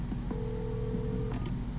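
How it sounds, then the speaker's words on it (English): Telephone ringing in the video game Alan Wake, a single electronic ring tone held for about a second over a low steady background hum, with no voices. "Alright, here's the phone again."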